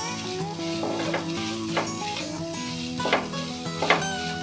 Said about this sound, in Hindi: इसको अच्छे से मिक्स कर लेते हैं।